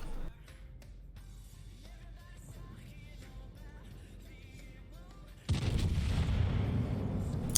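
Warship main guns fire a salvo in the naval combat game World of Warships. A sudden heavy, rumbling boom breaks a quiet stretch of game sound and rolls on loudly to the end.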